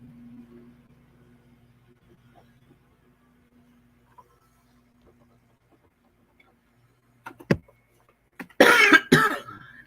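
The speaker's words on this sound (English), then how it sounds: "Sorry about the coughing, guys." A person coughing, a few sharp single coughs followed by a loud rough burst near the end, after a long stretch of near silence with faint ticking.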